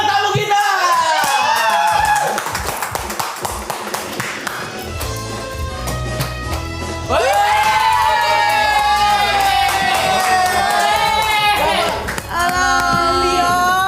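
A studio audience cheers, whoops and claps for guest Chandra Liow on a talk show, with loud, dense crowd noise rising in bursts and children's shouts mixed in under music-like tones.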